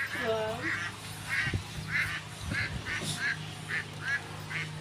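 A flock of farm ducks in a pen quacks repeatedly in a steady, busy chorus, with someone talking over the noise and some low thumps nearby.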